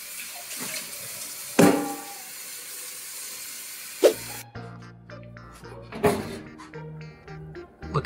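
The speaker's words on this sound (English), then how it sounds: "I'm going to clean my work area and wash these dishes." Dishes washed in a kitchen sink with running water after baking banana bread: a steady hiss of the tap with a few sharp clinks and clatters of dishware, close by, without talk.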